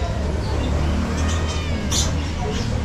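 Several cats meow over a steady background hum, with a few brief cries rising above the noise, while people talk nearby.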